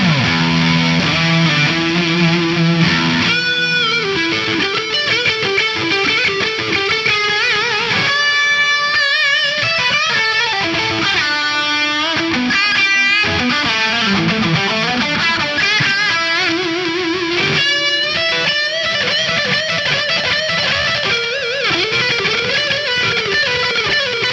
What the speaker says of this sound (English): I've cranked up the gain and the volume on the ALTA. Again, I'm on channel 3 with the comp switch on.